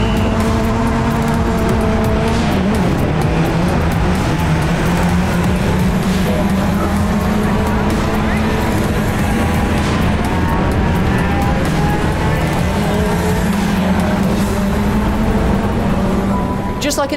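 Stock cars racing on track in a Grand National race, engines droning loud and steady throughout with shifting pitch as cars run close together, a voice talking over the engine noise.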